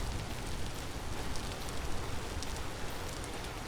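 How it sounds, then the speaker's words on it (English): Steady rain in the survival video game Vintage Story patters as a dense, even hiss with faint scattered drops, fairly quiet and continuous, with no voices over it. "It is raining, so we're not going to be able to venture too far out."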